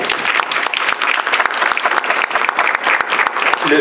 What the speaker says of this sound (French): J'aimerais vous encourager de donner une main d'applaudissement.